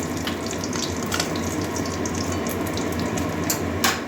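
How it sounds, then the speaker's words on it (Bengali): Constant crackling sizzle of fish frying in hot oil, close and steady, with occasional sharper pops rising above the hiss. "এই দুটো কড়া করে আরও একটু ভাজবো"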